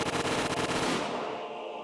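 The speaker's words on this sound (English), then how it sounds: "The sound of the gunshots echoed in the silence." Rapid bursts of gunfire from soldiers in the Higurashi: When They Cry video game, a dense rattling volley for over a second that then fades into a lingering echo.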